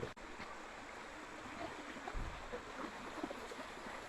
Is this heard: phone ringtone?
no